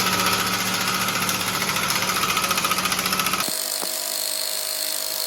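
A power tool rattles and buzzes loudly and steadily while a nut is removed from a Panhard bar bracket on the rear axle of a 1927 Ford, then cuts off abruptly, leaving a quieter background.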